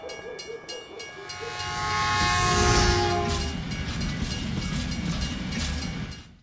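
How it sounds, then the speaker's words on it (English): A video-game train rumbles past at close range, its horn blaring with sustained tones that swell to a loud peak midway, then fade under a steady rolling clatter of wheels. "So when you try to leave, a train will pass, preventing your exit."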